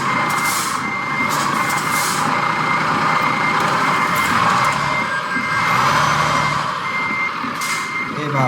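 A truck reverses in Euro Truck Simulator 2, its backup alarm beeping in a steady, repeating rhythm over a continuous low engine hum.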